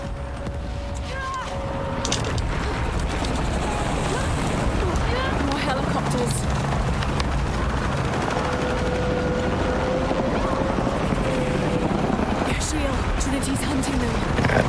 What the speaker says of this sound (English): Wait for the helicopter.